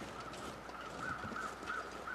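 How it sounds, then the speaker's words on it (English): Crows caw in The Long Dark, a few harsh calls repeating at a steady pace over a continuous wind-like background hiss. "They sound like crows"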